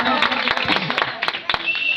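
Audience applause at a village stage decoration event, dense rapid clapping from a crowd sustained for two seconds, loud and fairly close, with a voice speaking over it.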